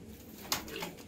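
Breeding pigeons kept at a house give a soft, brief coo, close and fairly quiet, with low background noise.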